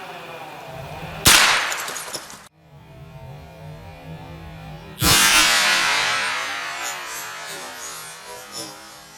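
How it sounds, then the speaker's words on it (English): Two loud, sharp gunshots from a Colt pre-ban AR-15 9mm carbine blasting large vodka bottles at an outdoor range, each crack trailing into a long ringing decay, with a low hum between them. "shooting these big old freaking vodka bottles, man,"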